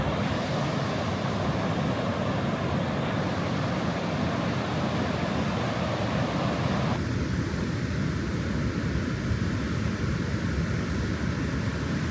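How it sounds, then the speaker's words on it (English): Waves crash on a shoreline during a coastal walk, a loud, continuous roar of surf mixed with wind noise, steady throughout with no speech. "Even with these waves crashing"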